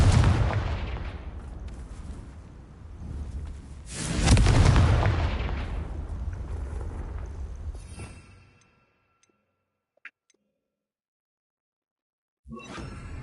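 Bombarda and Confringo spells explode in Hogwarts Legacy, with heavy booming blasts and whooshes rolling through the first eight seconds. The noise then drops to near silence, broken by a faint click, before another burst returns at the end.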